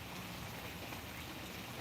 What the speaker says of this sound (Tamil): இப்போ கூட மழை வந்துட்டு தான் இருக்குது